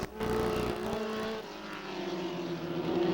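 1975 Formula Atlantic race cars roar past on a circuit, a loud, steady engine drone with a high tonal whine that shifts pitch as the cars accelerate, with no voices.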